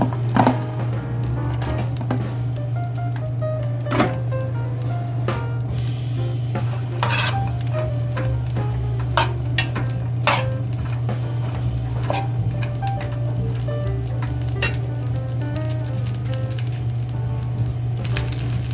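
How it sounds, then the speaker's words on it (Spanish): Chicharrón prensado (pressed pork cracklings) browns with onion in a small pan, a steady close sizzle under a constant low hum, broken by frequent clicks and scrapes of a utensil stirring against the pan. "Aquí en el sartencito donde pusimos la cebolla y todo, vamos a poner nuestro chicharrón prensado. Vamos a ponerlo a dorar un poquito"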